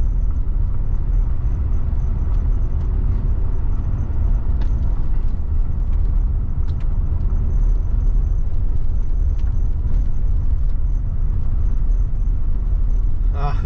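A vehicle drives along a dirt ranch road between opal mines in remote northwest Nevada, its steady low engine rumble and road noise continuous, with faint rattles and bumps throughout.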